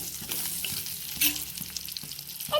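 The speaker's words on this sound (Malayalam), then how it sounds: "നമ്മൾ ഉള്ളി വഴറ്റും നമ്മൾ പച്ചമുളകും ഇഞ്ചിയും കൂടി നമ്മൾ ഒരു പാനിലേക്ക് ഇട്ട് കൊടുത്തിട്ടുണ്ട്" Onion, green chili and ginger sautéing in a pan give a steady close sizzle, with occasional scraping stir strokes and a brief louder burst of crackle midway.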